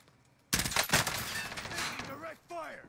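Rapid video game gunfire bursts during a squad match, loud and close, a dense crackling volley that fades into trailing echoes and then a short second burst, with a player's voice mixed in.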